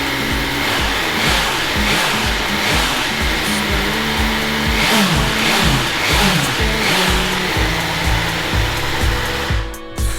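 A BMW S1000R motorcycle engine idles and revs repeatedly up close, with sharp rising and falling throttle blips over a rough, loud running note.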